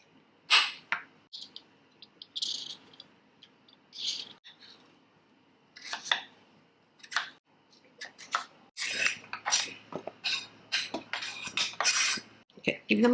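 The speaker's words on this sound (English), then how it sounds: "But first I'm going to cut up and peel my potato in half moons" A potato being cut into half moons and peeled, heard as sharp, scattered knife clicks and scraping strokes, close and fairly quiet, separated by short silences.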